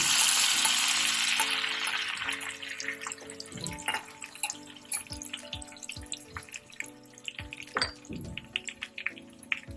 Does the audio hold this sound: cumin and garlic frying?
yes